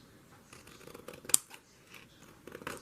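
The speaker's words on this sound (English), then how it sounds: "Trim the cardboard a little bit." Scissors trimming cardboard while dyeing Easter eggs on Poopoopaper, making a few soft snips that are faint and close, with one sharper cut standing out briefly in the middle.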